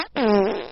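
A short, buzzy fart sound effect, a single loud reedy blat with a tonal, slightly wavering pitch that lasts under a second and plays alone.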